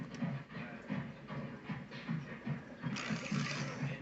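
Mantua switcher model train engine pulling a string of Tyco cars, a steady low motor hum with rhythmic clicking of wheels over track joints, close and moderately quiet, the whir growing brighter and louder near the end.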